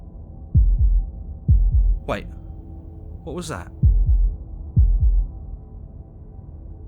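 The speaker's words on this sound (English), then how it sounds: "That was the sound of a heartbeat" Heartbeat in the video game Slay the Princess: deep, thudding double beats repeating at a slow, steady pace, loud and close, with a brief spoken line between the beats.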